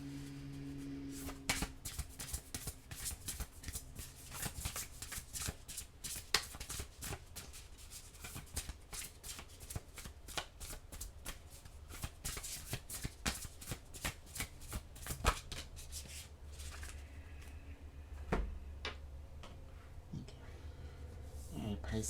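Oracle cards are shuffled by hand in a run of quick, crisp riffling flutters and soft slaps, close and fairly quiet, continuing for most of the stretch.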